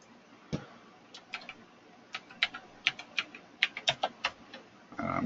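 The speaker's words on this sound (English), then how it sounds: "Let's see if I can get this thing to see if I can type in here." Fingers tap out a quick, irregular run of light keystrokes on a computer keyboard, close and fairly quiet, with short pauses between bursts and no talking.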